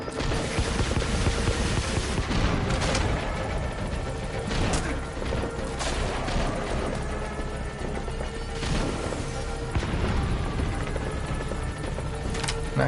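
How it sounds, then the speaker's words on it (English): A rocket salvo in Metal Gear Solid V roars under a constant helicopter-like drone, with repeated sharp blasts and crashes scattered through a loud, dense stretch of combat noise; no speech. "Rocket salvo."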